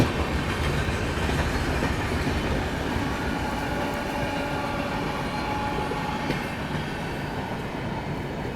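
Steady, loud rumble of the New Delhi Prayagraj Humsafar Express running on the rails near Kanpur, with continuous wheel noise and faint clatter throughout and no voices.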